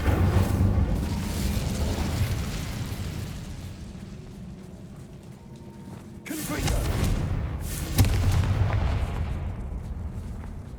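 An Incendio fire spell cast in Hogwarts Legacy, a loud whooshing blast with booming bursts, then a second eruption of flame a few seconds later over rumbling background.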